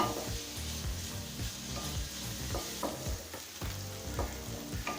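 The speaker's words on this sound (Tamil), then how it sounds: "இப்போ வெங்காயம் நல்லா வதங்கிடுச்சுங்க" Onions sauté with a steady frying sizzle, intermittent stirring scrapes and clatters in a pan, close and continuous, no voices.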